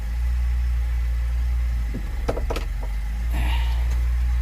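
An old Lada car's engine drones low and steady at idle as the car starts to roll, with a few mechanical knocks and clunks partway through and no one speaking.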